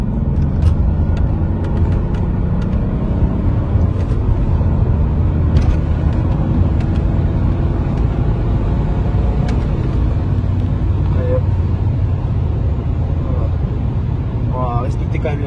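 A BMW 330Cd E46 accelerates while merging onto the German autobahn, its diesel engine a steady low droning rumble with road noise heard from inside the car, with someone talking over it throughout.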